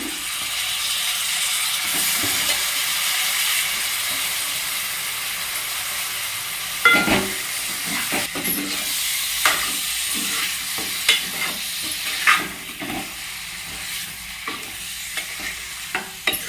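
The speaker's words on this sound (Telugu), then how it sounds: "ఇలా మంచి ఫ్రై అయిన తర్వాత చికెన్ వేసుకోవాలి." Chicken fries in a spiced masala gravy, sizzling loud and close without a break. Midway, rhythmic scraping and clattering of a ladle begins as the pieces are stirred and turned, and it goes on to the end.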